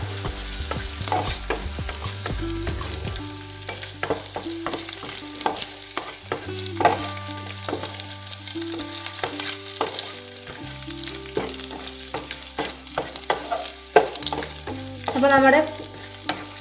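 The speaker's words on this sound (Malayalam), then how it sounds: "ഇത് നന്നായി ഒന്ന് ഇളക്കി മിക്സാക്കി എടുക്കാം" Egg and coriander leaf filling stirred in a frying pan: a continuous loud sizzle with repeated scraping and tapping of a spatula against the pan, with no voices.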